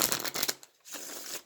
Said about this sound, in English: I'll shuffle a little bit on air for you as well